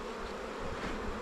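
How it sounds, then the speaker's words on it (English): A small, queenless honeybee colony with a failed queen hums in its hive, giving a steady, dense, close buzz that holds without a break or any voice. "this handful of bees"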